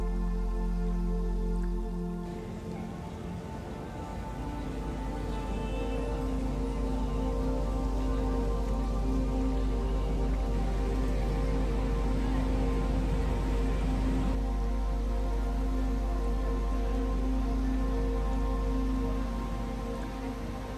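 Rain falls steadily at a cricket stadium in Visakhapatnam, making a continuous patter and drip on surfaces under a low background rumble, with no voices.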